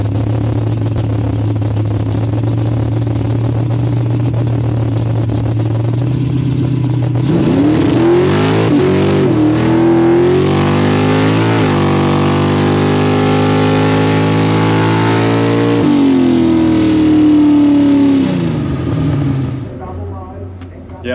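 A radial-tyre drag race car launches hard and accelerates, its engine rising through a long rising roar and high revving pitch sweep before cutting off, loud and close with a voice talking over it.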